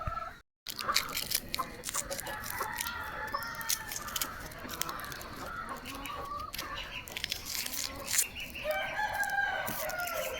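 Chickens cluck repeatedly and a rooster crows, with scattered rustling and faint background noise.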